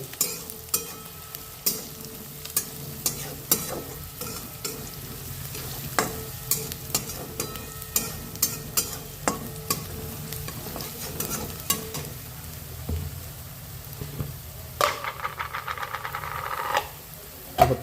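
Kitchen king masala, red chilli powder and turmeric fry in oil for dal khichdi, a low sizzle punctuated by frequent spoon scrapes and clinks against the pan, with a busier burst of stirring near the end.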